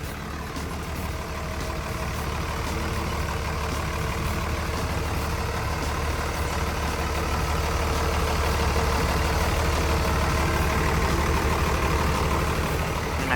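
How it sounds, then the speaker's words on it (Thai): The six-cylinder turbo diesel engine of a Komatsu WA150-3 wheel loader runs steadily at idle, a deep continuous drone with a faint rising hum, close by and with no talking. "เครื่องยนต์เป็นเครื่องยนต์ 6 สูบเทอร์โบนะครับ"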